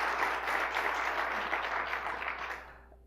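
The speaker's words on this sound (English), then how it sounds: "I would like, once again, everybody to give Mr. President Uribe a big round of applause." An audience applauds President Uribe, steady dense clapping that holds evenly for a few seconds before tapering off at the end.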